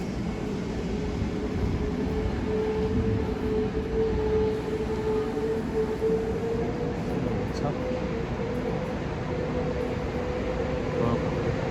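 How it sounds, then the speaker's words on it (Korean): A steady low rumble of a Gyeongbu high-speed train moving off from Seoul Station, with a faint rising whine as it departs. "요 열차 출발하는 건데 출발하는 모습 한번 보도록 하겠습니다"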